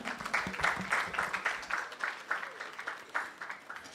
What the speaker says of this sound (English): I don't like the way you just clap for her